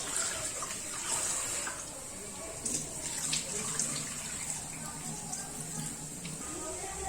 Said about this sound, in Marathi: मी इथे डाळ तांदूळ धुवून घेते